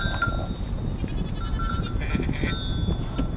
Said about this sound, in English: Oh, another goat.